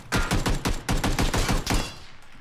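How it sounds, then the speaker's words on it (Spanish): Rapid bursts of automatic gunfire in PlayerUnknown's Battlegrounds, several loud close volleys of sharp shots in quick rhythm, briefly pausing and resuming before trailing off, with no talk over them. "¿No parece escuchar tiros?"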